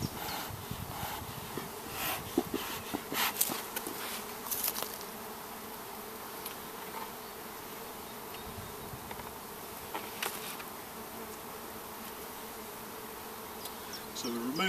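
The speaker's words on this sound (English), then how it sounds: "moving bees from a national brood body into a commercial brood body" Honey bees buzz steadily at an open hive as a beekeeper moves them from a National brood body into a Commercial brood body, a continuous close, moderately loud drone with brief handling knocks early on.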